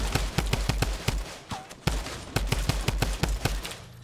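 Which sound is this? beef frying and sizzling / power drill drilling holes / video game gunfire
video game gunfire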